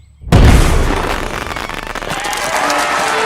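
Gas cylinders explode in the animated film Sausage Party, a sudden loud boom after silence followed by a sustained roaring, crackling blast that stays loud to the end.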